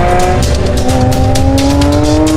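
A new Porsche 911 engine revs hard and climbs in pitch, loud and close, with rising harmonic whine and brief tire noise throughout.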